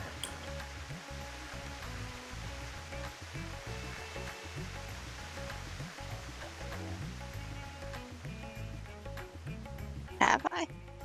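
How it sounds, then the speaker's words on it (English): A waterfall in Final Fantasy XIV: Endwalker rushes in a steady wash of noise beneath game music, with a brief sharp burst near the end. "Have you been out to the waterfall yet"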